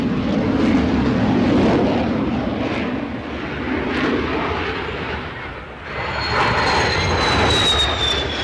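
A loud, roaring F-16 jet engine with a rumbling, crackling afterburner at an air show, sustained throughout, with a rising whine as the aircraft passes overhead.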